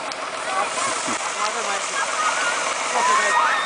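Strong water spray from a firefighters' hose hisses steadily and loudly throughout, a dense continuous rush with splashing and no pauses.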